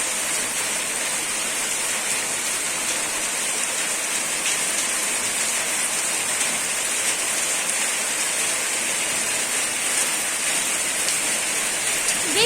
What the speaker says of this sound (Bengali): কে কত এবার বৃষ্টিতে ভিজবি